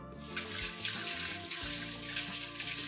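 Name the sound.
cold water running from tap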